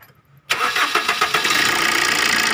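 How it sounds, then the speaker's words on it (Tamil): Maruti Swift engine starts after a quiet moment with a late-starting fault just corrected, a short crank catching abruptly and settling into a steady, close idle. "இப்போ நான் வண்டியை உங்களுக்கு ஸ்டார்ட் பண்ணுறேன் பாருங்கள்"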